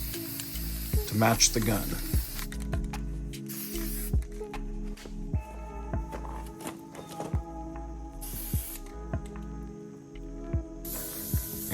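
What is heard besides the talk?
spray painting with Rust-Oleum black spray paint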